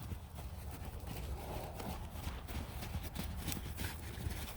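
Horses move around on the ground, their hooves thudding and clip-clopping in a loose, irregular rhythm at moderate distance against faint background noise.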